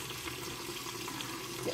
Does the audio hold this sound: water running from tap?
yes